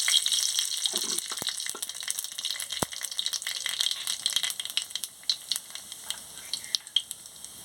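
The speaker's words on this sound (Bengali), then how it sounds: "তেলটা গরম হয়ে গেছে কালো জিরে আর শুকনা লঙ্কাটা দিয়ে দিচ্ছি" Nigella seeds and dried red chilies sizzle hard in hot oil with a bright, continuous crackle. Sharp pops and spits grow more spaced out as the frying goes on, with no one talking.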